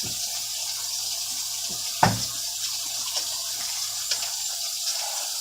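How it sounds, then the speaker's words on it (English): Water runs steadily from a tap during handwashing, a continuous broadband hiss with a few brief splashes and knocks, close and fairly loud with no voices. "start by washing your hands"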